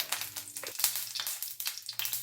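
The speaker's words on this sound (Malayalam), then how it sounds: "കടുക് പൊട്ടി വരുന്നുണ്ട്." Mustard seeds pop and splutter in hot oil, a busy run of sharp crackles over a steady sizzle, close by with no voices.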